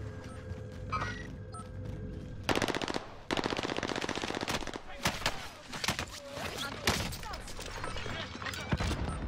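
Gunfire in a first-person shooter video game, with loud automatic bursts arriving in rapid, repeated volleys after a quieter opening, then continuing in choppy strings of shots.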